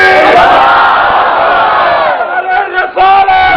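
A large crowd at a Milad religious gathering roars a slogan in unison in reply to the Naara-e-Takbeer call, a loud sustained massed shout that swells and then breaks into a couple of shorter bursts near the end.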